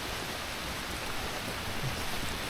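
Steady outdoor rain at Carrickfergus, a soft even hiss of drops falling on surfaces and pot plants, continuous and fairly faint with no voices.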